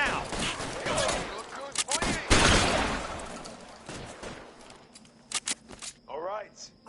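Gunshots ring out in the video game L.A. Noire: loud, close bursts of fire in the opening seconds, then a few sharp isolated shots, with voices talking over the action.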